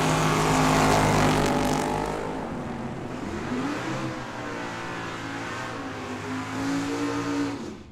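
Drag racing cars roar down the strip at Tucson Dragway, a loud engine blast swelling then settling into a sustained high revving drone with shifting pitch and a late surge.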